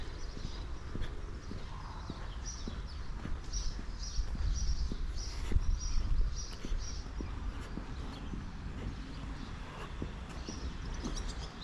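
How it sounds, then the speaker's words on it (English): Birds chirp in a repeated pattern around a holiday village in Ayia Napa, Cyprus, fairly faint over outdoor ambience with scattered footsteps and light knocks. "I told you can hear the birds"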